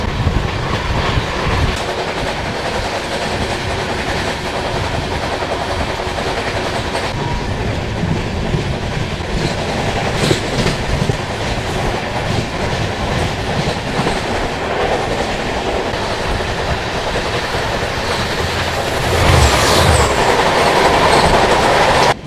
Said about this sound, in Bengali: ট্রেন কিন্তু আমাদের চলছে পুরো ঝড়ের বেগে, 130-এর স্পিডে ট্রেন চলছে